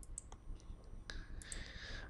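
Mouse clicks at a computer while working in Photoshop, a few short sharp clicks spaced irregularly at close range over a faint background hum, with no talking.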